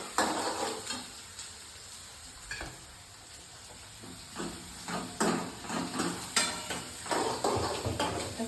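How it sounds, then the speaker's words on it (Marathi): Onions sauté in a home kitchen pan, a soft sizzle broken by repeated scraping strokes of a spoon stirring, uneven rhythm, close and moderately loud, no voices. "कांदा मस्त परतून घेतलाय."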